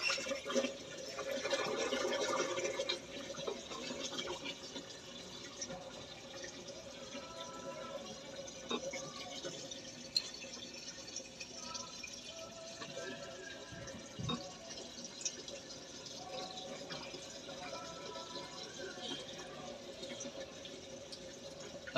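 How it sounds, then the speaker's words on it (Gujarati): Water from a household tap runs steadily in the background, a faint continuous splashing, while people talk quietly nearby. "અહીંયાથી કમ્પ્લીટ પાણી જાય છે"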